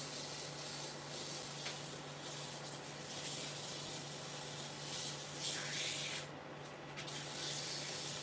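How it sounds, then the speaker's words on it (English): Sandpaper rubs a wooden tool rest end up to 400 grit, making a steady, close, soft abrasive hiss that continues without pause and without talk. "So I'm going to sand it up to 400"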